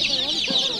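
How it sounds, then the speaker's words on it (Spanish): Dense, high-pitched peeping of many chicks chirps continuously and close by at a market stall in an open-air street market in Tecomán, Mexico, with faint background bustle. "pollitos"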